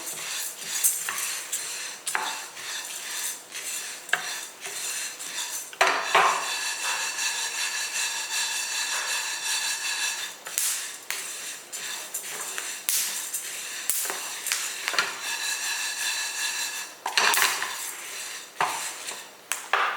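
Horse gram being dry-roasted in a pan and stirred constantly: a near, steady rattle of hard grains and ladle scraping metal, with sharper clinks recurring every second or two over a light sizzle.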